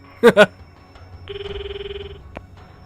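A phone rings during a call in the Steins;Gate 0 video game: a steady electronic ringtone tone holds for about a second, following two short loud bursts of voice-like sound at the start.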